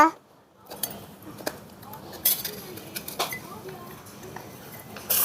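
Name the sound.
knife cutting tomato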